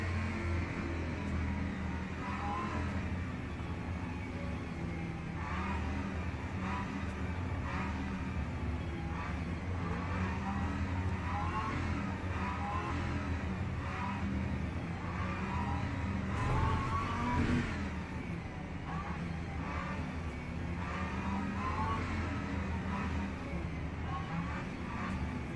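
A BMW GT3 race car engine in the Le Mans Ultimate racing game at Le Mans drones steadily and loudly throughout, with shifting harmonic revs and a brief surge midway, among other cars' engine noise.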